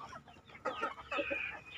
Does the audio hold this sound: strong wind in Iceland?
no